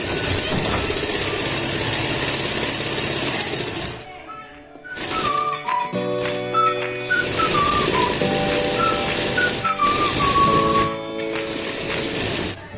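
A sewing machine stitches ladies' shirt fabric, its steady motor whir running continuously and loud, breaking off briefly twice, with whistled music tones over the pauses.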